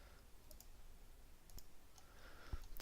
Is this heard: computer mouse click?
yes